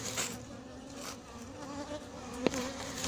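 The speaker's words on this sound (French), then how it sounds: "Elles me tapent les abeilles." Honey bees buzzing around a queenless colony at Montgeron as the hive is opened; a dense, close, continuous drone with a few individual bees zipping past and a brief sharp knock near the end.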